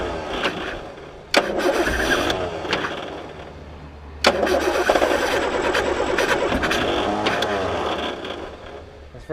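An old 1976 Land Rover Series III engine cranks and catches, then runs roughly at idle with a loud rattling rumble, a bit smoky, close by.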